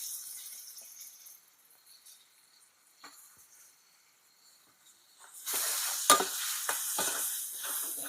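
A faint hiss of oil in a frying pan, then an abrupt loud burst of sizzling as tomato goes in, settling into a steady crackling fry close by, with no voices.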